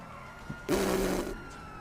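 A police car siren in GTA 5 roleplay gives one short, fairly loud burst lasting under a second, standing alone against a quiet background.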